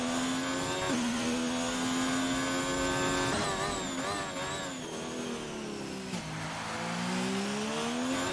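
An F1 race car in a Japanese Grand Prix racing video game whines at high pitch, then drops sharply as it brakes into a corner. The engine tone slides up and down through gear changes, loud and steady.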